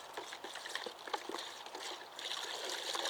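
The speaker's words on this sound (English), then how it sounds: "I'll use a trowel and just stir that round." A trowel stirs baking powder solution in a garden tub, giving a soft continuous swishing and trickling of water with small splashes, close and fairly quiet.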